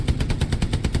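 Machine-gun fire at enemy infantry in Hell Let Loose, a sustained burst of evenly spaced rapid shots hammering at a steady rhythm, close and loud, with no voices over it.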